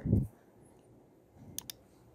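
A computer mouse gives a couple of quick, faint clicks in a quiet room while working in ANSYS software, following a brief low thump at the start.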